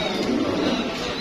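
Baghdadi fancy pigeons cooing in a shop, a low, steady burbling coo running continuously at close range for a short moment, with a noisy room around it and no talk over it.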